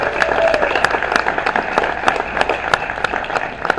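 Audience applause at the former home of a country music radio show, a crowd clapping continuously and fairly loudly, with individual sharp claps standing out over a dense wash of clapping.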